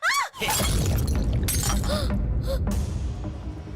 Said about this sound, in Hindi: मेरा ग्लास टूट गया, टूट गया।